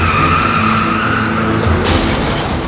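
A car skids with a sustained tire squeal over a revving engine, loud and close for a couple of seconds, ending in a burst of harsh noise.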